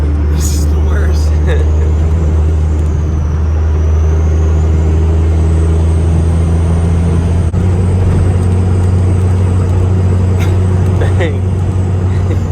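A built second-gen 24 valve Cummins diesel truck drones with a deep, steady low engine rumble from inside the cab while people talk over it.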